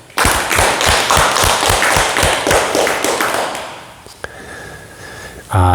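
Rhythmic clapping from a gathered audience at a Buddhist morning dharma talk, a fast run of sharp claps in near unison that is loud and close, then trails off into a quieter pause before a final burst.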